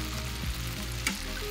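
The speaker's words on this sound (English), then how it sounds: "Once it sounds like this, it means the syrup is much thicker now and caramelization is happening in short time." Sugar syrup bubbles in a pan while cooking down into caramel sauce, a low, fairly quiet steady simmer with a soft pop or two, no voices.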